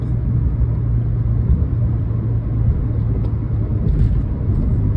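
A 1996 Chevy truck driving, its low steady engine rumble and road noise droning evenly and close, with no talk over it.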